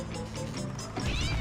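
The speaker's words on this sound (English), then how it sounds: "That was a cat." A cat meows in The Simpsons: Hit & Run video game. The short, faint cry sits within dense game background sound.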